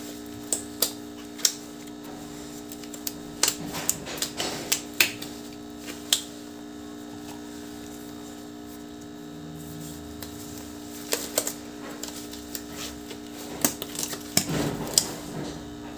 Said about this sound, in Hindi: थोड़ी सी यहाँ पर आवाज़ भी कर रहा है स्कैनर का